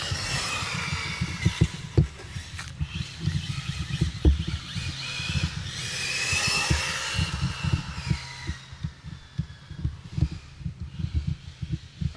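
ARRMA Infraction RC car driving and drifting, its small electric motor whining and rising in pitch with tire scrubbing and bumpy rattling thuds, near and continuous over a dozen seconds.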